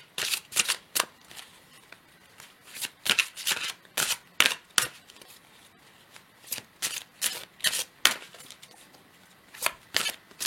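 Archetype oracle cards are shuffled by hand in quick repeated bursts of crisp riffling and flicking, near and clear, with short pauses between the shuffles and no talking.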